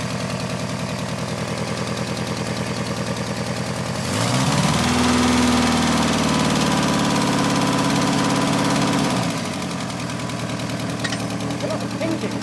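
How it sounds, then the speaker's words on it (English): A VW Golf Mk2 with a drawthrough turbo and a tacked-up exhaust idles with a choppy, uneven beat, swelling louder in the middle as the engine note rises, with faint talk in the background. "I love the pinking."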